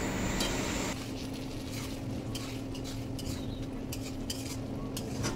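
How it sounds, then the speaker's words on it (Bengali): A spatula scrapes and clinks as spice paste for a Bengali rui fish kalia is stirred in a pan. A soft sizzle runs underneath, with no one speaking. "এবার ভালোভাবে খুন্তির সাহায্যে নেড়ে মশলাগুলোকে কষিয়ে নিতে হবে।"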